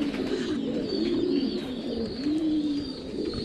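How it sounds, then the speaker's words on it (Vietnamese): Pigeons in a pigeon loft coo continuously, low throaty rolling calls overlapping close by, with faint fluttering and chirps in the background and no speech. "Đây là chim bồ câu ra ràng nha."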